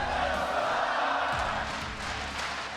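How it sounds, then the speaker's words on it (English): A large San Francisco arena crowd at a League of Legends World Championship match chants for Cloud9, a broad steady roar of many voices with rhythmic swells, loud and sustained, with faint talk underneath. "The San Francisco crowd chanting, "Let's go Cloud9,""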